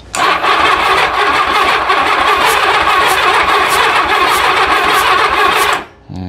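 Vintage barn-find Honda Goldwing motorcycle cranking on the starter, a loud, steady churning whir with a rhythmic pulse that runs for several seconds and then drops away abruptly.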